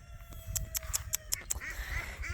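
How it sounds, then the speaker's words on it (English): A duck indoors at home quacks in a quick run of about six sharp, evenly spaced calls, near and fairly loud over low background rumble. "I gotta put Juju out so I can get the duck up."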